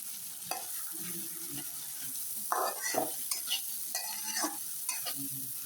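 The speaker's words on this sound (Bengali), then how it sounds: "চিংড়িগুলোকে মাত্র 1 মিনিটের জন্য ভেজে নেব, বেশি ভাজা যাবে না।" Prawns sizzling in hot oil with a steady hiss, broken by several scraping stirs and clinks of a spatula against the pan.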